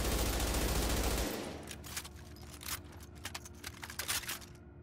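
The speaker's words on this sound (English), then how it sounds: "that is the reload of the LMG" A light machine gun in The Division fires a loud, dense burst, then goes quiet into the reload: a quick sequence of crisp mechanical clicks and clacks.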